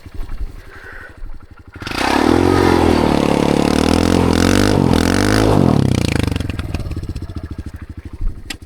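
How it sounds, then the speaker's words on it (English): A dirt bike does a burnout on hard sand: the engine idles, then revs hard into a loud sustained roar with wavering pitch before easing back down, close by. "We'll do a little burnout."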